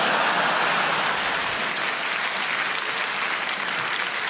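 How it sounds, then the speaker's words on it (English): A comedy club audience breaks into sustained applause, a dense, even wash of many hands clapping together, loud and continuous without talk. "I get a round of applause always"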